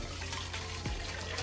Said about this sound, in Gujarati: મીન્સ પાણી વધારાનું જે છે એ આપણે કાઢી લઈશું.